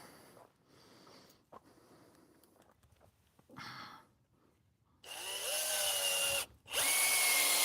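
A power drill drives longer screws into a wooden garden structure. It comes in a brief burst, then two loud sustained runs close by, after quieter handling noise and rustling.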